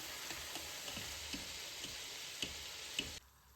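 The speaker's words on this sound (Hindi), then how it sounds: "चिकन को 5-6 मिनट हो गए हैं फ्राई करते हुए" Chicken pieces frying in oil in a pan, a faint steady sizzle with small crackles and pops throughout, cutting off near the end, no talk.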